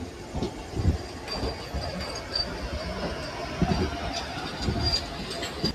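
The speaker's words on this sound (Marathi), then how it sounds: "तारगाव रेल्वे स्टेशनवरती ओव्हरटेक केलेली वंदे भारत एक्सप्रेस." The Vande Bharat Express overtakes the Koyna Express at Targaon railway station, a continuous rumbling roar of rolling stock with faint rhythmic wheel clatter and a few higher squeals, steady and fairly near throughout.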